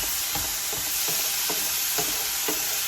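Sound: peppers frying in a pan

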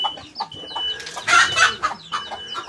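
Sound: chickens clucking

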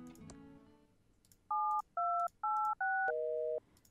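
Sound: cell phone dialing tones in video game Thimbleweed Park

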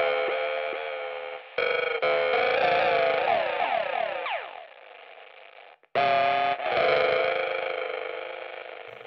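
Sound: lo-fi delay effect from Cooper Fx Generation Loss pedal

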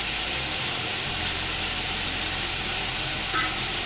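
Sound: stirring mutton with chillies, onions and turmeric in pan

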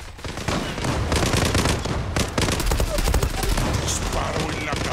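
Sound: gunfire in a video game

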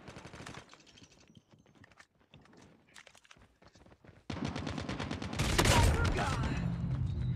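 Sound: gunfire in Call of Duty Mobile video game

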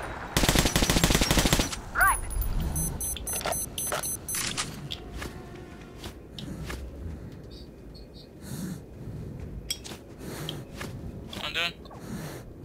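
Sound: gunfire in video game Metro Last Light

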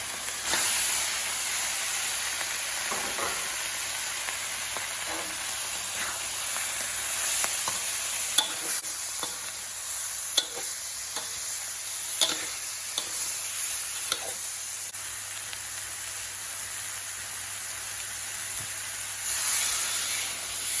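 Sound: stir-frying climbing perch fish with red curry paste

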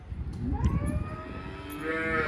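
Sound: cow mooing

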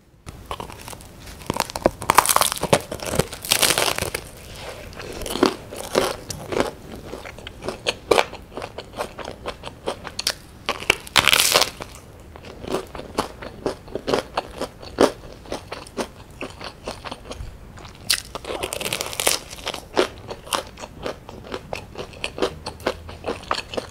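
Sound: eating crunchy bakery bread and custard pastries

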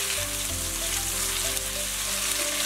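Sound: egg-coated tofu frying in oil in a pan

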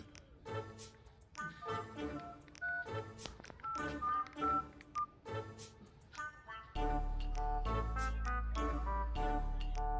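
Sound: telephone keypad dialing tones

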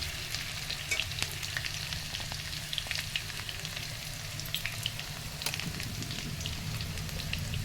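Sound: flat beans and potatoes frying in pan

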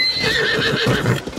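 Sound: horse neighing and galloping in Zelda Tears of the Kingdom video game

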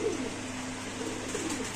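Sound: racer pigeons cooing

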